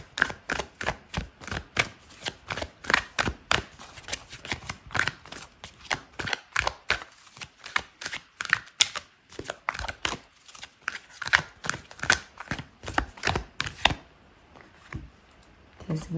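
Tarot cards are shuffled by hand, a long run of quick crisp riffling snaps and slaps in irregular bursts, close and moderately loud, with no talking.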